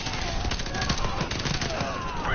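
Dense World War I battlefield gunfire in Battlefield 1: rapid machine-gun bursts and scattered rifle shots crackle continuously at close to mid range, with faint voices mixed into the busy din.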